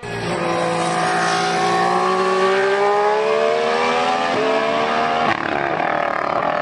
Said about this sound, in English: The Honda engine has a deep, guttural growling note, which is most impressive.